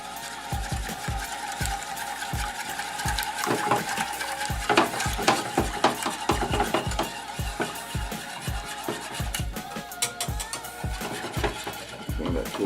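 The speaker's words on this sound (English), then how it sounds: "add the milk to that. And we begin to whisk that a little bit." A whisk scrapes and taps rhythmically in a pan as milk is worked into a roux, quick repeated clicks and swishes close up, steady throughout with no talking.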